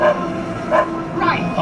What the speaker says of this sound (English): Blimey, those dogs is getting vicious.